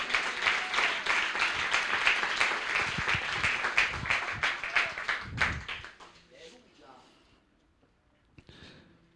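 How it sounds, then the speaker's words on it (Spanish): Church congregation clapping together at a Pentecostal service, a dense round of applause that stays steady for several seconds and then thins out to a few scattered claps, with a voice speaking beneath it. "¿Cuánto puede dar un aplauso si es que puede?"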